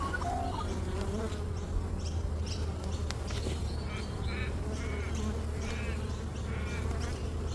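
Honeybees hum in a dense, steady drone throughout a beehive inspection, with occasional louder buzzing bursts from individual bees passing near the microphone and a low background rumble.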